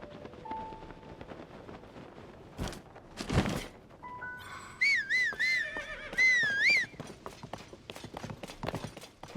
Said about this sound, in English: Don't want to leave Bree, my horse, behind.